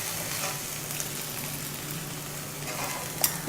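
Okra roasting in oil in a pan makes a soft, even sizzle for a few seconds, with a light clink of stirring near the end.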